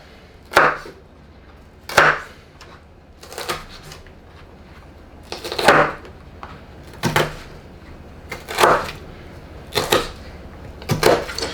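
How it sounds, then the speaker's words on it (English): Knife chopping bell peppers on a cutting board, with about nine sharp, close chops spaced unevenly and no talking. "So split it. And then chop it up some more."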